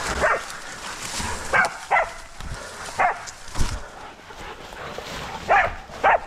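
Hunting dogs bark repeatedly in short bursts outdoors in the hills while catching a wild boar, some yips and whimpers mixed in, moderately close against a busy background.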